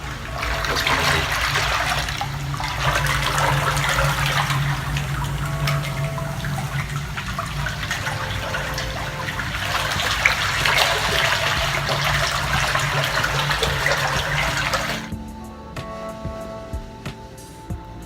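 Water jets churn and bubble steadily inside a sensory deprivation float tank, a continuous close wash of moving water that fades to quieter trickling near the end.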